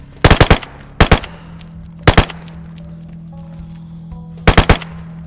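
Bursts of rapid automatic gunfire in DayZ, four short volleys of three to four shots each spaced about a second apart, sharp and loud over a low steady hum.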